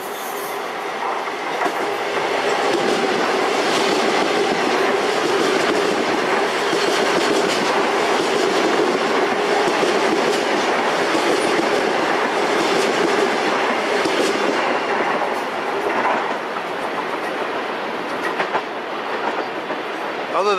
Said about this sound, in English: you can definitely tell a difference in sound between the passing of an M7 train and an M3 train